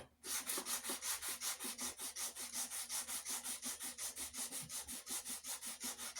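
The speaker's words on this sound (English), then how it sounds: "What I will do, though, however, is give it a quick little sand." Close rhythmic rasping of sandpaper worked back and forth along a wooden Australian racing axe handle, about four even strokes per second, steady and alone.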